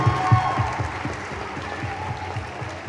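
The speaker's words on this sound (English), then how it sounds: "I want the whole school to give a loud round of applause to Dr. Vitow, Rabbi Weinberg, Mrs. Septimus, Mr. Binsky, and the rest of the faculty" A school audience gives a loud round of applause for the faculty at a Shiriyah event, a dense, steady wash of many hands clapping at moderate distance, holding evenly for the whole stretch.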